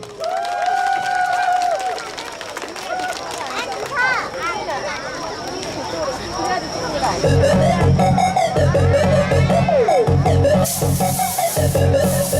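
Audience applause greets a nanta drum troupe at a Suncheon Nonghyup community culture festival; voices and stage sound give way after several seconds to a loud, dense wash of clapping and crowd noise.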